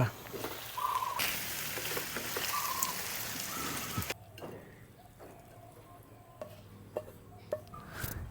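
Adobo sa gata simmers in a covered pan, giving a steady, close bubbling and sizzling hiss that softens partway through, with faint kitchen clatter and occasional talk.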